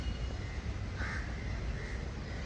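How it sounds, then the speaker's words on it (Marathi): Crows caw among other birds in the grounds of a temple in Pune, with a clear caw standing out over faint, continuous background chatter and ambient noise. "भरपूर साऱ्या पक्ष्यांचा किलबिलाट सुद्धा इथे चाललेला असतो"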